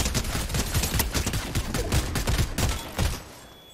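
Rapid bursts of gunfire from the Fortnite video game crackle in quick, uneven volleys, loud and close, with the shots thinning out toward the end.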